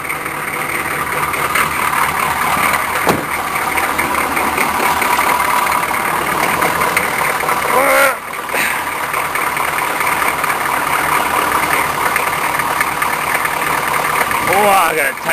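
A car engine idles steadily at normal speed without a fast idle, a continuous near rumble running throughout, with voices and a few faint squeaks over it.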